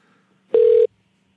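A telephone line gives a single short, steady electronic tone, loud and clean, set between near-silent stretches.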